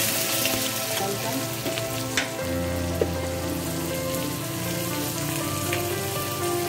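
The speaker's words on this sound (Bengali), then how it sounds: "ওরা শুকনো লঙ্কাগুলো মাঝখান থেকে কেটে দিয়ে দিলাম তেলের মধ্যে" Dried red chillies, slit down the middle, and whole garam masala spices frying in hot oil, giving a loud, steady, close sizzle with a couple of small pops.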